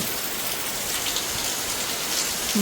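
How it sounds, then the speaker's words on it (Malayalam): Heavy rain pours down steadily, a dense unbroken hiss of drops drumming on surfaces close by, with no voices. "നല്ല മഴ"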